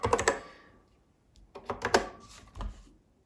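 Keystrokes on an English-layout keyboard of a vintage Apple Macintosh, clattering in short quick bursts with pauses between, close and moderately loud, no talking.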